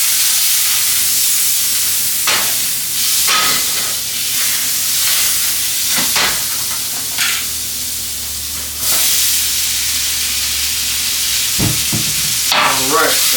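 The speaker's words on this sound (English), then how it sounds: "potatoes are cooking" Potatoes frying in butter in a pan give a steady broadband sizzle and hiss across the whole stretch, with a few brief clatters of stirring or handling on top and no talk.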